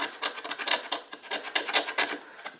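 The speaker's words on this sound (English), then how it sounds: "it's not a super sharp spine, but it definitely will make some nice shavings" The spine of an SRM 7228 pocket knife scrapes wood into fine shavings, a close, brisk rasping in quick repeated strokes with no talk.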